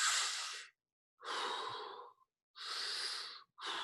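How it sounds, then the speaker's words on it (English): Loud, deep abdominal breaths close to the ear: four long drawn airy inhales and exhales, each lasting about half a second to a second with short silent gaps between them, and no talking. "I'm being loud so that you can hear what I'm breathing."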